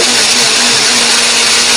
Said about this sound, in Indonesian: Kemudian setelah itu kita akan blender, beri sedikit air.